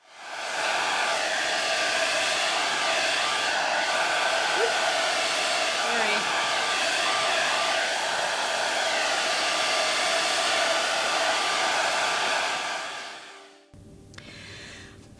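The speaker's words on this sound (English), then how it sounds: "I'm gonna speed it up with a hairdryer." A hair dryer blows a steady, loud, even whoosh for about thirteen seconds while drying a layer of mixed media craft artwork, then cuts off abruptly.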